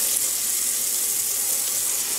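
Tap water runs in a steady, even hiss onto a merino wool batt dyed with food coloring, with no talk and no breaks.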